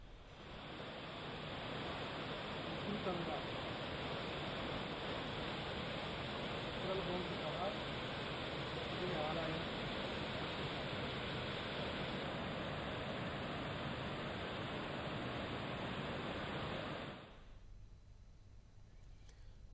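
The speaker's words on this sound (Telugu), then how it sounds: "మూసీ బ్రిడ్జిలను తాకుతూ వరద ప్రవహిస్తోంది." Floodwater from the Musi river rushes past bridges in a continuous, dense roar that holds steady for a long stretch and then cuts off abruptly near the end.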